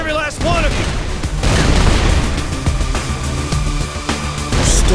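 Gunfire rattles through a Saints Row 4 shootout, with dense bursts of shots and booms running nonstop and loud, while a voice talks over the fighting.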